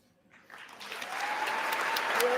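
Applause from a large audience in the United States Congress swells quickly from a quiet start into sustained, dense clapping that stays steady and fairly distant throughout.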